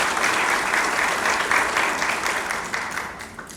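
An audience at an actuarial conference in a hall bursts into sustained applause, a dense, loud wash of many hands clapping that slowly tapers off over a few seconds.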